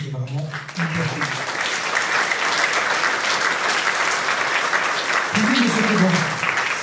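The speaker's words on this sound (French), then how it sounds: "On va les applaudir puisque c'était vraiment hyper cool." Concert crowd applauding a band, a loud sustained ovation; a voice speaks over the opening second and again near the end.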